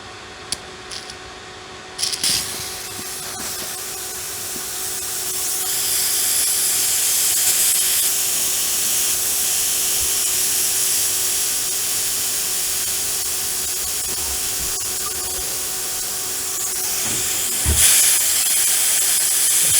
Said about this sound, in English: I'll now close the bottle valve and open the hill pump bleed valve and see how much moisture comes out